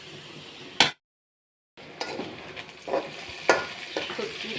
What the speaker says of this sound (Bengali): শুটকি, পেঁয়াজ, মরিচ ভাজা হয়ে গেছে।